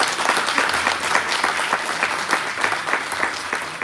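Applause from an audience at a Dogri cultural programme honouring Padma Shri Narsingh Dev Jamwal, a steady burst of many hands clapping with crisp, dense claps throughout, fairly close and loud.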